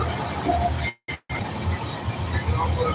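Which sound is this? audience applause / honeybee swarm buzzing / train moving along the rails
train moving along the rails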